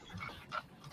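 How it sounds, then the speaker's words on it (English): A dog pants briefly and softly nearby, quick breathy huffs over a quiet background. "That's the dog."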